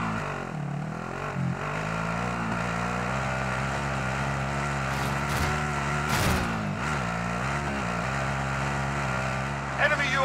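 A vehicle engine in the video game Call of Duty: Modern Warfare drones steadily and loudly throughout, with shifting pitch as it drives, and a brief louder burst near the middle.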